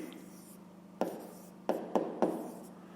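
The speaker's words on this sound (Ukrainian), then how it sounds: "Ну і записуємо дріб." Pen or pencil writing a fraction by hand on paper for a 5th-grade math exercise, a few short scratchy strokes in quick bursts over a quiet room hum, close and soft.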